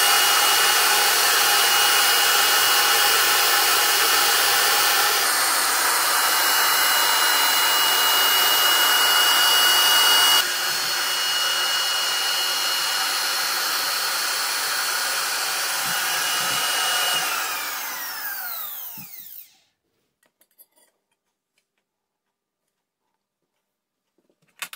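A router plunge-cuts along a Bosch guide rail, a loud steady high whine running for nearly twenty seconds before spinning down and falling silent.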